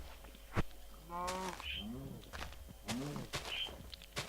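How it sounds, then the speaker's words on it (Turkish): A cow moos twice in the Minecraft video game, two drawn-out bellowing calls a second or so apart with footstep-like thuds around them, and no talking. "Aa inek."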